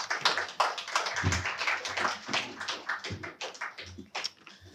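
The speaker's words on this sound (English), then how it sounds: "Big round of applause for Andoni, please." Applause from a seminar audience at a university talk on Greek neighbourhoods in post-war Sydney, steady overlapping claps in a room that thin out toward the end.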